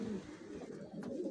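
Pigeons coo in a breeding loft, soft low repeated coos overlapping one another at close range, with a brief higher chirp near the end.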